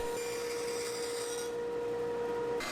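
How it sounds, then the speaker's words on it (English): A bandsaw cuts a walnut cutting board handle, giving a steady, close, even whine that holds throughout and then thins out just before the end as the cut finishes. "I repeat the process for the other side of the handle."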